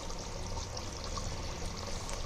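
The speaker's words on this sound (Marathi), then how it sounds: "त्यातलं 1 वाटी पाणी मटन मध्ये टाकायचं कारण ते सिक्रेट इंग्रेडियंट आहे" Water is poured from a bowl into mutton cooking for biryani, a soft, steady splashing stream heard up close with no talking.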